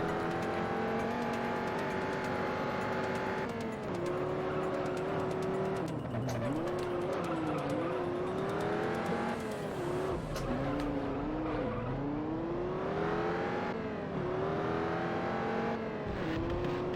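A race car engine roars continuously in the Juiced racing video game, revving up and down through gear changes with tire squeals, loud and close throughout.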